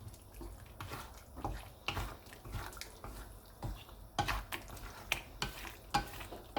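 White chicken curry is stirred and cooked in a pot, with quiet bubbling and soft sizzling broken by intermittent scrapes and knocks of a spoon against the pot, close but faint.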